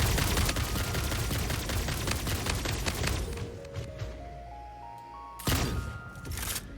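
Rifle gunfire in the factory-building video game Satisfactory, a rapid burst of loud shots for about three seconds, then a pause with tonal game sounds, followed by another short volley.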